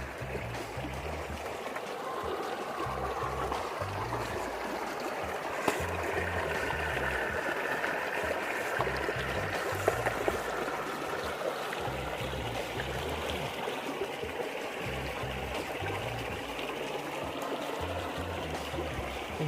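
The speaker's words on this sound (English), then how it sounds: "one last water cross to clean up the vehicle" An RC off-road truck, a TRX4M Defender 90, crosses through water, giving a continuous splashing, trickling wash with a low motor whine underneath, steady for the whole stretch and moderately distant.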